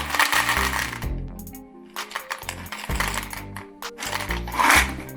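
Honey roasted peanuts rattle and clatter as they are poured into a container for weighing, in several close bursts over a low steady tone.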